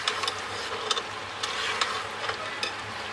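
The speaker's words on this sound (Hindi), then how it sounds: "यहाँ पर अब मैं इसको अच्छे से भूनूँगी ताकि इसका पानी खुश्क हो जाए" Lahori chickpea curry is stirred and fried in oil in a pot, with a continuous close sizzle broken by intermittent scraping stir strokes.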